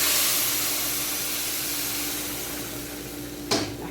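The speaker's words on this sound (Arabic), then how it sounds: "ننزل بالحليب بقى بتاعنا" Milk poured into a hot pot of vermicelli gives a loud, steady, broadband sizzling hiss that slowly fades over a few seconds, with a brief clatter of the pot near the end.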